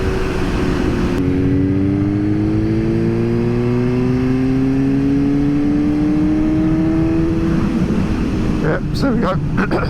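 A Suzuki GSX-S 750 with a custom Power Commander 5 tune accelerates in sixth gear from about 40 mph, its engine note climbing steadily and loud under strong wind rush, with no talking heard.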